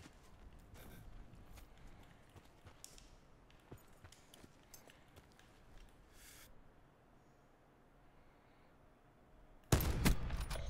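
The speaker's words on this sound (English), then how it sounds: "Gunshots." Gunfire in the Call of Duty Black Ops 4 Blackout battle royale game: scattered distant shots crack sporadically over low ambient rumble, then a sudden loud burst of close fire erupts near the end.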